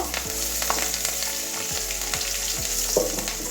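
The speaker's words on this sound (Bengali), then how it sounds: "কালো জিরে কাঁচা লঙ্কাটা একটু কাঁচা গন্ধ যাওয়া পর্যন্ত ভেজে নেব" Nigella seeds and green chillies fry in hot oil, a steady, close, dense sizzle throughout with a few faint stirring taps and no talk.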